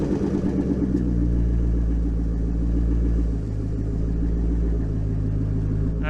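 A totaled C6 Corvette bought at a salvage auction runs close by with a deep, steady V8 rumble that dips briefly partway through, with no voices.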